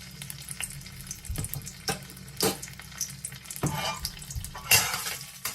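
Sichuan chili sauce is stir-fried in a pan, with a soft sizzle broken by repeated scraping and clanking strokes of the spatula at an irregular rhythm.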